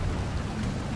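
Rain in the video game Shadow Tactics, a dense steady hiss with a low rumbling undertone, close and continuous for the whole second with no voices.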